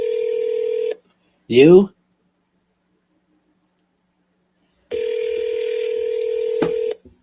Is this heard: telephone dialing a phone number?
yes